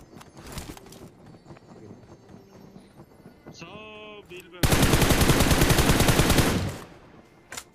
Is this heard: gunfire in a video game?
yes